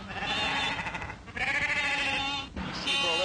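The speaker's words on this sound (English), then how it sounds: "Sheep all over the road, damn silly things." A flock of sheep bleats on a country road, several loud, close, wavering calls overlapping one after another with barely a pause.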